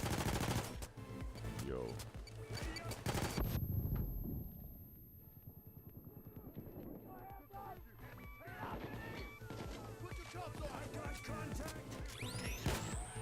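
Rapid bursts of gunfire from a gun in a heist video game come in dense volleys, pausing briefly before resuming with more shots and game clatter, while a voice speaks briefly in the background.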